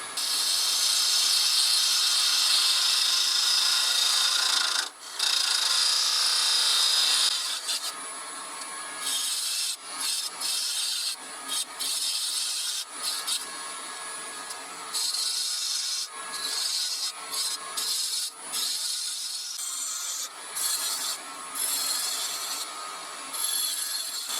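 Continuous harsh scraping of a tool cutting apricot wood spinning on a lathe, with frequent short breaks as the cut pauses and resumes.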